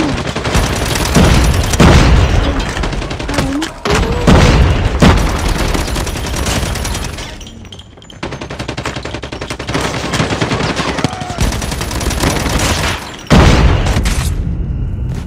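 Rapid bursts of automatic gunfire and booming shots from a Call of Duty match, loud and nearly continuous with brief pauses between volleys.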